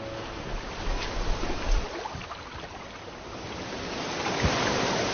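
Sea waves wash onto a rocky shore in a steady, broad roar with gentle swells, alone with no voices.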